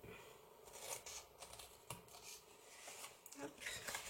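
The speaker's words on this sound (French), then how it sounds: "On coupe le long de la ligne de pli." Quiet, scratchy snips come from scissors cutting paper along a fold line while a craft box is made, with short rustling strokes spread through the clip.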